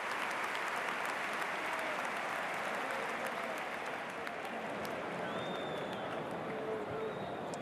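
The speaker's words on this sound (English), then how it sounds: "Big round of applause for Edu Alonso from the home side." A home crowd at a 1999 Real Madrid versus Athletic Bilbao football match applauds a player being substituted off, a distant, steady roar of stadium clapping and crowd noise that continues throughout.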